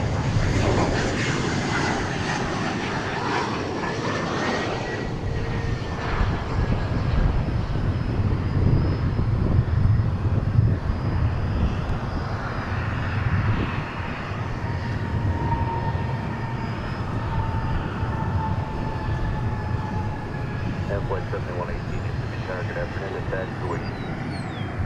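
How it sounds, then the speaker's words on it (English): An A321 airliner arriving at DFW Airport, a steady jet engine roar and whine heard from a distance at moderate level, with people talking nearby over it. "Our next arrival's from Abilene, Chihuahua, Denver on an A321"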